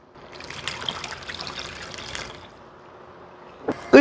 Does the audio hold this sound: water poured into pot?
yes